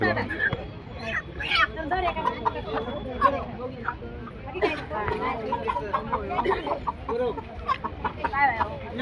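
Country hens cluck and squawk repeatedly amid a busy, noisy crowd with people chattering nearby, the bird calls rising intermittently over the babble of a weekly village market in Kudal.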